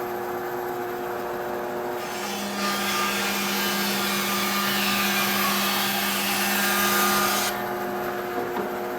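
A bandsaw set up as a log mill cuts through a log, giving a steady, loud mechanical whine with a constant low hum that holds for the whole stretch and grows slightly louder toward the end.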